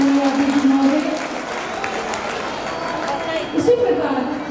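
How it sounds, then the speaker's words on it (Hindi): Applause from a gathered audience welcoming a guest of honour at a community-hall event on the Constitution preamble, a broad steady wash of clapping with crowd murmur and voices mixed in, heard close throughout. "जोरदार तालियों से स्वागत कीजिए सम्माननीय अतिथि महोदय।"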